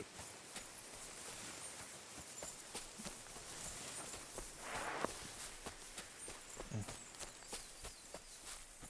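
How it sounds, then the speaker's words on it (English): Clip-clop of a horse's hooves in a video game, walking at a steady, moderate pace, close by, over a rustling woodland background, with a brief whooshing swell midway. "Oh hell, there's a black horse right there."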